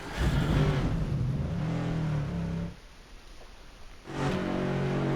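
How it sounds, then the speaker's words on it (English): A NASCAR Cup Series stock car engine in the NASCAR 25 video game at Michigan roars at steady high revs, drops to a quieter idle for about a second, then surges back to a loud rev. "Drivers, start your engine! get her started now."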